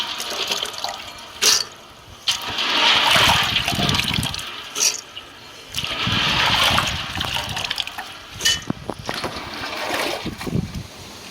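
Water sloshes and splashes in a pot being rinsed and filled, ready for boiling small date-palm fruits, in two long surging pours with brief drips between, fairly close and with no talking.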